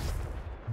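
Confringo blasting spell firing in the Hogwarts Legacy video game, a short dense burst of booming low rumble lasting under a second with a fresh thump at the end, loud and alone.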